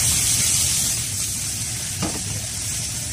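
Green peppers, eggplant and pork belly with soy sauce sizzle in a wok over low heat, a steady close hiss broken by one brief scrape of stirring.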